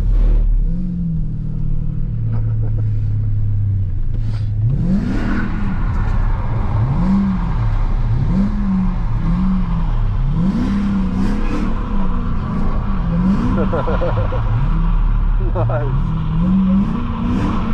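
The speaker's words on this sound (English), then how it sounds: "Go on, I'll give you a little slide." Dodge Hellcat drifting in power slides, its engine revving and rising in repeated surging waves, loud and close from inside the car, with tyre noise and someone talking over it.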